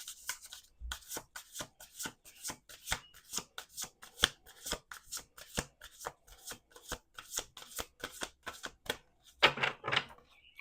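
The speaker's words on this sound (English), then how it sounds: "2 more shuffles." A deck of tarot cards being shuffled up close, a long run of quick crisp riffling bursts in steady rhythm, with a few slaps of the cards settling near the end.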